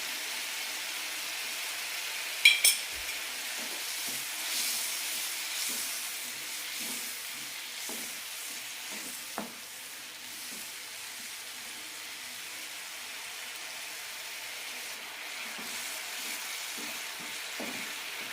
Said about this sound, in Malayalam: മസാല നന്നായി ഒന്ന് വേവിച്ചെടുക്കാം